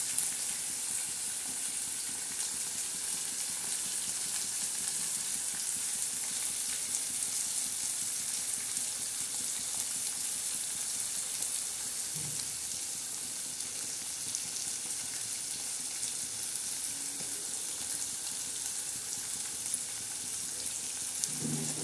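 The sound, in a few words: tempering being roasted in a pan for upma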